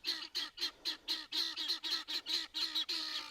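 Pearl guinea fowl calling in a steady run of about a dozen harsh, rasping two-part cries, close and loud with even rhythm and no talk.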